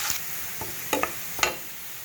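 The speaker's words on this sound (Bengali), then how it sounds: "পেঁয়াজ আর রসুনটা আমার লাল লাল করে ভাজা হয়ে গেছে" Onion and crushed garlic frying in oil in a pan, a soft sizzle broken by a few sharp spatula scrapes and knocks as they are stirred.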